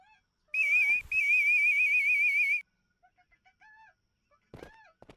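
Bird calls whistled inside the Vacation Simulator video game: a loud, steady warbling whistle held for about two seconds, followed by a few short faint chirps and a brief burst of noise near the end.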